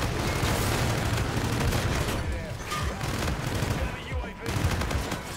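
Rapid automatic fire from the KARMA-45 in a first-person shooter video game, sustained bursts of loud gunshots with booming impacts running almost continuously, briefly thinning before resuming.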